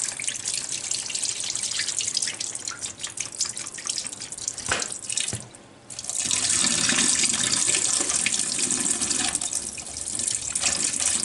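Bitter brine water being poured out of a container of olives during home olive curing, heard as a loud, continuous close splashing pour with a brief dip in the flow partway through before it gushes strongly again.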